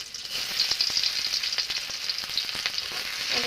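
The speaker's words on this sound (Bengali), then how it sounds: "আমার তেলটাও গরম হয়ে গেছে এখন পেঁয়াজ কুচি আমি দিয়ে দিচ্ছি" Chopped onion hits hot oil in a wok, a loud continuous sizzle with scattered crackles and spoon scrapes throughout, close and steady with no talk.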